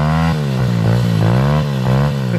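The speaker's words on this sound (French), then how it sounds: "Celle-là, elle va très bien cette petite moto." Small motocross motorcycle engine revving up and down repeatedly at close range, loud rising and falling whine with clattery harmonics throughout.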